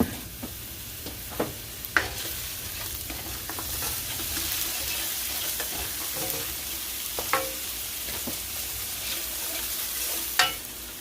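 Salted chopped onions sweat in a pan for shakshuka, giving a soft continuous sizzle with occasional louder clicks and stirring scrapes from the utensil, with no voices over it.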